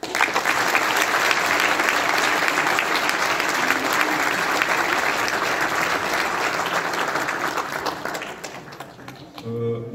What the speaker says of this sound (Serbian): da sve naše sportiste pozdravite aplauzom